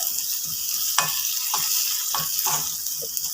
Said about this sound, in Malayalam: ഒരു ഗോൾഡൻ കളർ ആകുന്നിടം വരെയും വഴറ്റണം ചുവന്ന ചുവന്നുള്ളിയൊക്കെ ഒരു ഗോൾഡൻ കളറാകാൻ തുടങ്ങിയിട്ടുണ്ട്